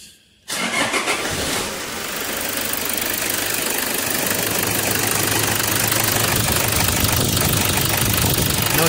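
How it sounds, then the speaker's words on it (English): A Toyota Hilux with a fault that cuts its power above 2000 rpm starts after a short silence, and the engine settles into a loud, close, steady idle with a slightly knocking rhythm, with no speech. "I'll just start the car."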